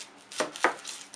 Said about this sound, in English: Now we will cut the onion.